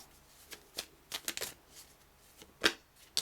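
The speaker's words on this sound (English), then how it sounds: "I'll do a couple more shuffles and then I'll choose." Close-up card shuffling, a string of sharp flicks and riffles in uneven bursts, ending in a couple of louder snaps; no talking.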